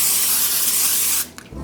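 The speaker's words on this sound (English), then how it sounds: "I use this olive oil non-stick spray." Olive oil non-stick cooking spray hisses out in one steady, close burst lasting just over a second, then cuts off abruptly with a faint clatter after.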